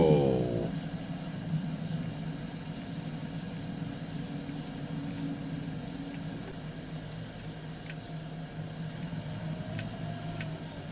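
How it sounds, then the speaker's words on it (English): A steady low rumble of tyres rolling from a vehicle in Farming Simulator 22, constant and moderately loud, with a brief voice-like tone at the start and faint clicks later. "Do you like the tyre noise?"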